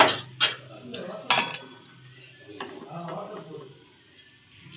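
A spoon clinks and scrapes against a pot while anchovy fish curry is stirred, with a few sharp metallic knocks early on followed by softer scraping and bubbling, close by.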